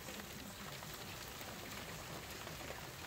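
Steady rain drums on a tarp in stormy weather, an unbroken close hiss of countless drops striking the covering at an even level throughout.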